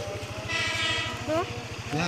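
Commuter train, a TM 6000 set, rolling past with a steady rhythmic clatter of wheels over rail joints and a rising rumble, loud and close, with a brief horn-like tone near the end; people talk around it.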